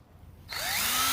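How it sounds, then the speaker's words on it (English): Power drill spins up on a pitted headlight lens being wet-sanded, around 1200–1600 RPM: silence, then a sudden loud whir at mid-clip that climbs in pitch and holds steady, close and alone. "Hit it with the drill"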